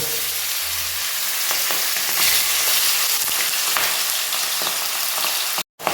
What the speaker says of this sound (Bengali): এবার আমি এক এক করে বোয়াল মাছ দুটোকে ভেজে নেব